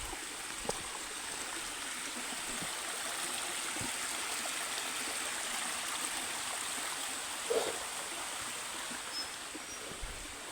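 A small stream flows steadily in the open, a close, continuous wash of trickling water with a few brief splashes and no talking.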